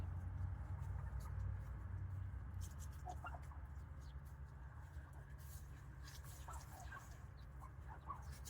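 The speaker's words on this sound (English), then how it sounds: "Look at the birds." Wild turkeys give soft, scattered clucks and chirps nearby, faint against a low steady outdoor rumble, with a person speaking briefly.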